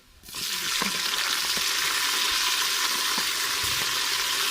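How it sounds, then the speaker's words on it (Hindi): A loud, continuous sizzle bursts up as tomatoes hit browned onions in a hot pan, with occasional stirring clinks and scrapes beneath the steady hiss. "प्याज हमारा ब्राउन हो गया, अभी डालेंगे टमाटर"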